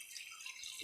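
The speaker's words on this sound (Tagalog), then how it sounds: "Lagyan natin to guys ng konting tubig." A short, faint pour of a little water into a pan of fried chicken feet and heads, a soft hissing trickle lasting under a second.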